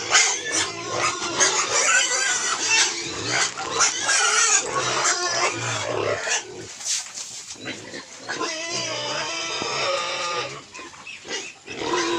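Three-week-old piglets on a farm squeal and grunt noisily while waiting to be fed, a dense close chorus of shrill overlapping cries with a brief lull midway, and someone talks over them.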